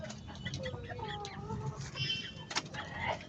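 Young roosters (stags) clucking close by in short, irregular bursts, with low background noise and voices mixed faintly underneath.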